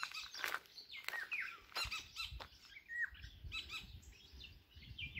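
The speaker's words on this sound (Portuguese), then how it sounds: "Eu vou até ficar quieta para escutar o passarinho." Small bird chirping and squeaking from trees outdoors, several short bright calls scattered over a steady low background rumble, fairly faint and distant.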